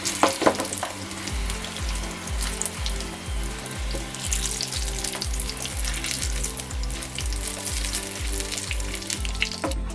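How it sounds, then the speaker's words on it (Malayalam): Brinjal pieces deep fry in hot oil with a dense, steady sizzle and bubbling that runs unbroken for several seconds, close and moderately loud, with no talk. "ഇത് തിരിച്ച് മറിച്ച് വിട്ട് ഫ്രൈ ചെയ്തെടുക്കണം"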